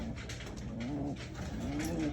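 A pigeon's soft, low cooing repeats twice over a faint, steady background hum.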